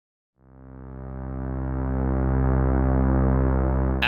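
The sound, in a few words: gritty synthesizer pad sound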